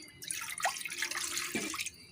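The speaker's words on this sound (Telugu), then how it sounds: "కొంచెం వాటర్ పోసి" Water is poured into a cooking pot to boil pieces of shark fish on a low flame, a short close splashing pour of about two seconds with no voices.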